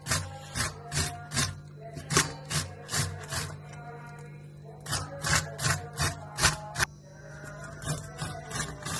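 Bitter gourd (karela) rubbed along a grater in steady rhythmic rasping strokes, close and loud, with a brief pause partway before the grating resumes, no talking.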